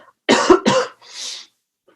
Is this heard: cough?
yes